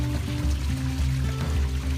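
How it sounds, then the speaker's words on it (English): Water pours in a steady stream from a hiking water filter at a creek, a continuous liquid flow with no voices. "the water filter."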